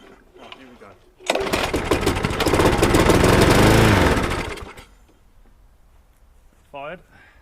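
A Briggs and Stratton lawnmower engine in need of repair fires after a pull, roars loudly for about three seconds, then dies back to quiet, followed by a short high mechanical whir.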